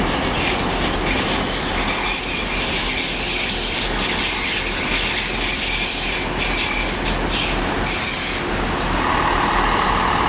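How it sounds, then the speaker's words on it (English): Train 802-206 departs Leeds station, bound for Liverpool Lime Street from Newcastle, with a loud rolling rumble, wheel squeal and rubbing, all close by and continuous. "our final train of the day is going to be 802-206 to Liverpool Lime Street from Newcastle"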